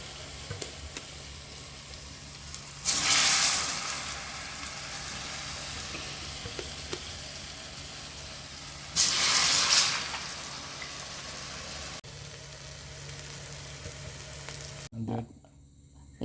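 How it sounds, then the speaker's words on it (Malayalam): Urad dal vadas fry in hot oil in a kadai, a constant low sizzle broken by two loud bursts of crackling as batter hits the oil, then quieting toward the end, with no talking. "നമ്മളൊരു കടായി വെച്ച് എണ്ണ ഒഴിച്ചിട്ടുണ്ട്. നല്ലൊരു ചൂടായിട്ട് വേണം അതിലേക്ക് ഇടാൻ."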